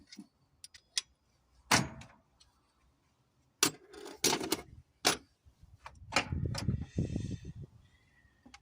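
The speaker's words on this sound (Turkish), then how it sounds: "Bunu anahtarla sıkıyoruz." A wrench tightens a steering pump bolt, producing scattered sharp metallic clicks and ratchet-like clacks with short scraping bursts, close by and fairly quiet, separated by brief pauses.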